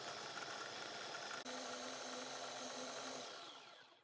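A kitchen blender whirls vegan bread into breadcrumbs, a continuous motor whir with a brief dip then spinning down at the end, heard alone.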